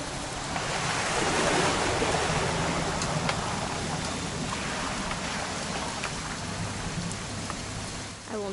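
Steady heavy rain pours without a break in a horror video game, a dense wash of falling drops with faint wind underneath and no voices.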